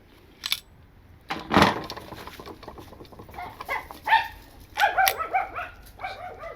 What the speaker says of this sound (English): Sorry for the dogs